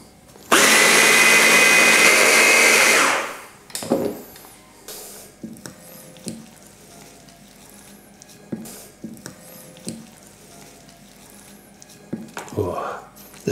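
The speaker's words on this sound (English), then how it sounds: "Let's put the lid on. Finish blending it." A kitchen blender runs loud and steady for about three seconds, whirring through a mint, basil and lemon pasta sauce, then cuts off, leaving faint clinks and kitchen handling noises.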